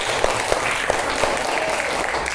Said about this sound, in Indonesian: Kita berikan tepuk tangan untuk temannya.